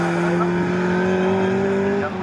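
A 1960s Mini race car in a Swinging Sixties Group 1 race at Snetterton holds a steady, sustained engine drone close by, with faint tyre noise and a commentator talking over it.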